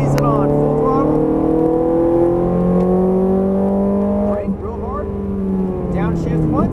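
Ferrari F430 Scuderia engine wound up at full throttle, a loud, close, rising howl with rich harmonics, a quick break and shift midway, then climbing again, with a voice faintly over it.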